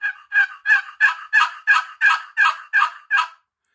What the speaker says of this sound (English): there was a nice classic yelp